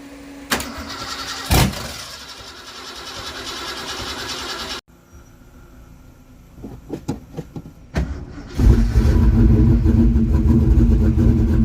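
A Ford Mustang with a broken ignition switch cranks with a loud whirring starter, catches and settles, then fires again and roars into a sustained, throaty idle-to-rev, close and loud.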